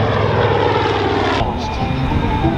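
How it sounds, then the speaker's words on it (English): A Corsair propeller warplane drones steadily overhead at the Wings Over Meridian airshow, a loud, sustained engine roar that dips slightly in tone midway as it passes, with faint crowd ambience beneath. "You've seen the Corsair flying up there."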